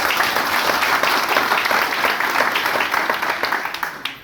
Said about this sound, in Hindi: उन सभी के लिए एक बार जोरदार ताली बजा दीजिए